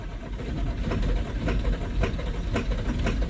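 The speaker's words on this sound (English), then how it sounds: "Let's see if this thing fires up. Do some cranking on her." A car engine cranking after its fuel filter has been replaced, heard as a loud, continuous, rhythmic churning close by with regular pulses and no voices over it.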